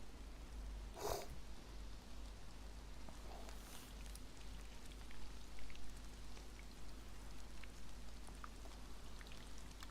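Rain patters steadily in DayZ while a fire burns nearby, a broad even wash of drops with one sharp crackling burst early on, continuing without any voices.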